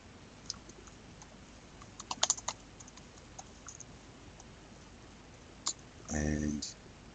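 Scattered light key clicks on a computer keyboard while a spreadsheet formula is entered, ending in a brief, denser burst of typing, all fairly quiet over a steady background hiss.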